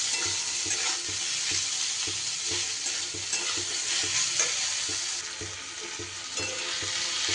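Onions and tomatoes fry in a pan with salt, giving a steady close sizzle broken by repeated scraping and stirring strokes, with no one talking.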